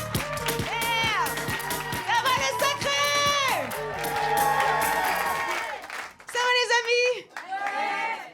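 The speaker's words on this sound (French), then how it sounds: "Continuez vos applaudissements, s'il vous plaît, pour la suivante." A live comedy audience in France applauds and cheers at a stand-up show, loud and sustained, under a host's amplified voice, then fades out before brief bursts of talk.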